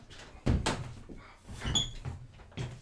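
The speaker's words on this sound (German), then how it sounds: "Kannst du die Tür aufmachen?" Door being opened indoors, a few short knocks and handle clatters spread over a couple of seconds at close range, with faint room noise between them.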